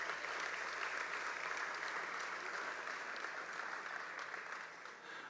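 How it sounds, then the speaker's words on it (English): Sustained applause from an audience at a leadership awards celebration, dense and steady clapping throughout that tapers slightly near the end, with no speech over it. "So a round of applause to all of our vendors."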